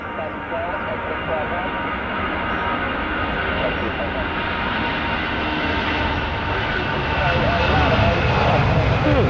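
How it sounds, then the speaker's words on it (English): A jet airliner roars steadily on takeoff at London Stansted Airport, a broad loud engine rumble that swells slightly toward the end, with wind noise mixed in. "Quite a long takeoff there."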